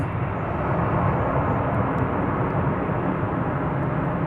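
Steady broadband roar of an Embraer 170 regional jet at DFW Airport, continuous and fairly loud throughout with no talk.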